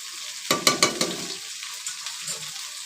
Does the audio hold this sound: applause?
no